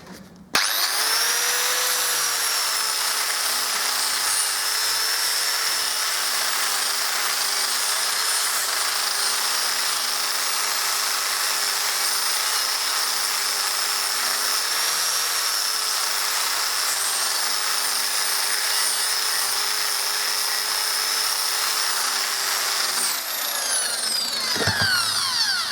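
A power tool fitted with a flat abrasive wheel strips the metal of an old trolley, a continuous high, steady grinding whine held for the whole stretch with slight pitch wobbles, close and loud, then stopping near the end.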